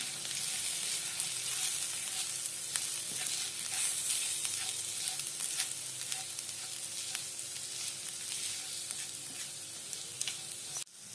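Chili powder and garam masala stirred into a sizzling pan for mustard greens bhaji, an even close sizzle broken by light scraping stirs and small clicks, no talking.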